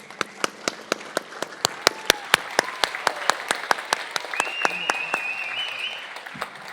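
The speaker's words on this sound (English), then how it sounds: "can we stand on our feet and give these American heroes one more round" Applause rises for American heroes exiting a Memorial Day ceremony at Fordson, with sharp, loud individual claps punctuating a steady crowd clapping that builds toward the end.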